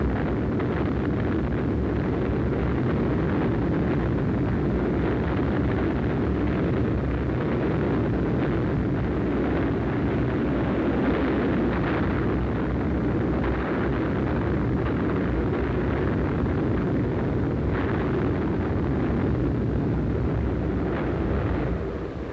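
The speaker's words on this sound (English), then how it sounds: "The bombs go on the target." World War II aerial bombs bursting on a target during a 1944 raid, heard as a continuous loud, dense rumble of blasts and roaring wind-like noise throughout, with no talk.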